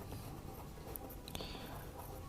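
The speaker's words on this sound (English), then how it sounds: "let's write down solution here" A pen scratching across paper while a math solution is written out, producing a faint, continuous rustle with small, soft strokes.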